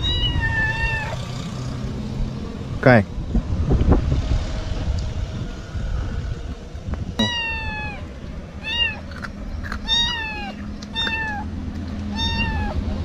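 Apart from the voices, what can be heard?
cats meowing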